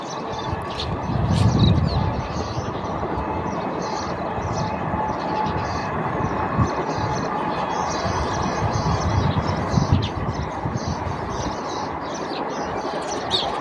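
Near a village, a train rumbles past in a continuous broad roar that swells and fades slightly over time, with birds chirping faintly above it.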